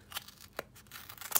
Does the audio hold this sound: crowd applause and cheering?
no